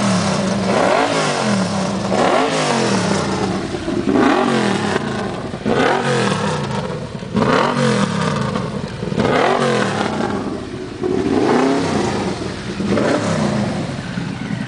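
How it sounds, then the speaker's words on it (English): A motorcycle with a custom 'Alien Predator' build starts and revs hard, its engine rising and falling in repeated loud throttle blips, close by with no talk over it. "start the bike up"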